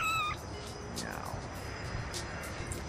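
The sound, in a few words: kitten meowing in the video game No More Heroes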